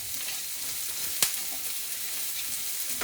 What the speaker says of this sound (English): we're going to add this onion and garlic, and we want to sort of lightly brown this off